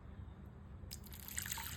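Faint trickling and dripping of water as washed fennel seeds are strained, starting after a near-silent second and continuing as a light, scattered patter.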